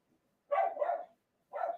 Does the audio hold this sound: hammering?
no